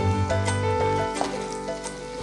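Mustard seeds sizzle and crackle in hot oil while a tempering for a rice dish is cooked in a Telugu home-cooking setting; a steady, close frying hiss runs throughout with a few small pops, and no talk.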